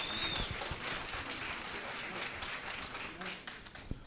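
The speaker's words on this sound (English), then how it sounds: "give these guys a round of applause." A room gives a round of applause for a high school football team at a class banquet, a fairly steady crowd clapping for several seconds, with talk faintly mixed in and a few sharper claps near the end.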